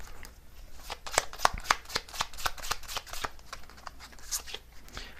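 Tarot cards shuffled by hand in a close, crisp run of riffling snaps and flutters, steady and moderately loud with no voices over them.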